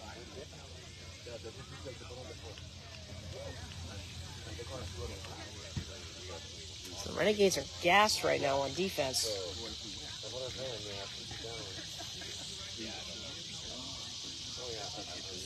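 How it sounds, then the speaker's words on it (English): Cicadas drone steadily in woods beside an outdoor beep baseball game on a 91-degree day, a constant high buzz beneath a commentator's continuous speech and a brief burst of louder voices midway. "And the cicadas are very, very loud out in the woods."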